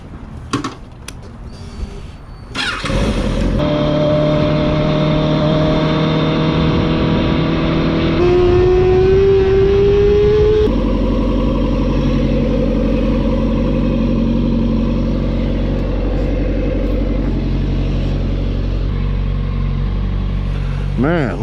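A Kawasaki 636 motorcycle engine held at high rpm during a stress test, a loud steady drone after a short start, with pitch shifts partway through and running continuously to the end.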